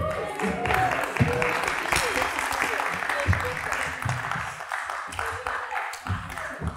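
A conference audience cheers and applauds with sustained clapping and whoops for nearly seven seconds, loud and close, while onstage racers are egged on.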